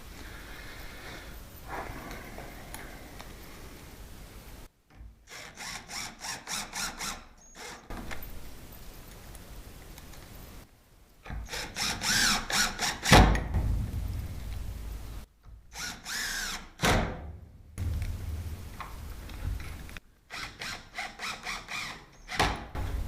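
A power drill drives wood screws while a Lockwood 002 lock is fitted, producing several close, loud whirring bursts of varying length separated by brief silences.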